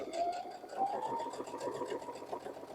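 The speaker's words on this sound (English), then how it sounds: "I'm just going to sew that down at a diagonal seam" A sewing machine runs steadily at close range with fast, even mechanical stitching as it sews a diagonal seam across quilt fabric for a star quilt block.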